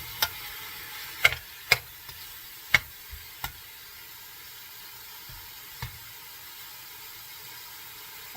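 Kimchi pork stirred in a pan over high heat, several sharp scrapes and knocks of a utensil spaced irregularly over a faint background sizzle.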